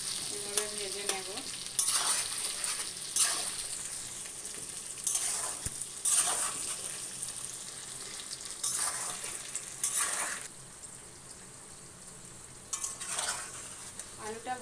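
Potato pieces with turmeric sizzle in hot oil in a pan, a continuous crackle broken by recurring scrapes and rattles of a spatula stirring, all fairly quiet and close.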